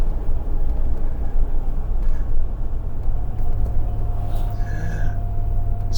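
A Land Rover Discovery V8i three-door four-wheel drive on the move, its V8 engine giving a steady, loud, low rumble with road noise throughout and no talking.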